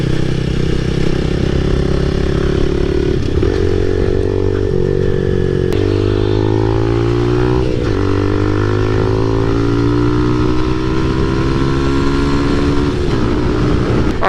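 Motorcycle engine heard from inside a Biltwell Gringo S helmet while riding, a steady mid-pitched drone that rises and shifts with gear changes, wrapped in constant rushing wind noise throughout.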